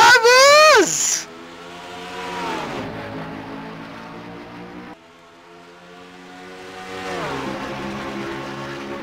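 Stock cars in a racing video game roar away at the green flag of the Tractor Supply Co 300, engines rising and falling in pitch as several cars pass close, loud and continuous after a brief swell of voices.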